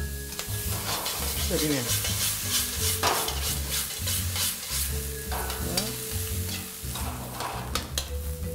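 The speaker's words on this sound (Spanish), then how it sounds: "Un poquito de aceite. Y ahí mismo colocamos la cebolla" Onion frying in a little oil for a Peruvian-style stir-fried noodle dish, a constant close sizzle with repeated scraping stirs and faint tonal sounds in the background; a voice speaks briefly.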